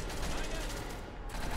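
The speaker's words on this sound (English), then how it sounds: "Are those gunshots?" Dense, rapid gunfire crackles continuously in a loud burst in the video game SCP: Secret Laboratory, like automatic weapons firing close by with no pause.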